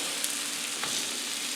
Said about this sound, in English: That melting sizzle has got me going.